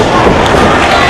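A wrestling crowd at a live indoor show roars and cheers in a dense, steady wash of noise, loud throughout the short stretch with no pause.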